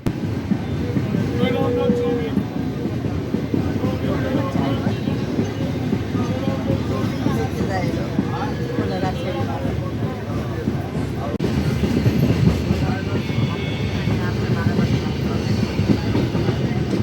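Passenger train 12857 Tamralipta Express runs on rails between Howrah and Digha, a steady rumble with rhythmic clatter heard from inside the coach, continuous and fairly loud throughout.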